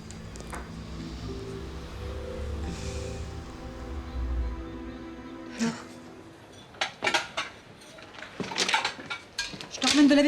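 Dishes are carried in a home kitchen, with scattered clinks and clatters of crockery that grow busier toward the end over quiet room noise, after soft speech early on.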